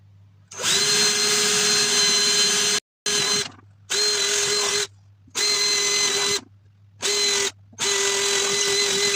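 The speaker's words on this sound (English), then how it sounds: "So let's drill these holes." A power drill bores bolt holes for mounting a fan into a laser engraver enclosure, running loud and close in several sustained whirring bursts separated by brief pauses.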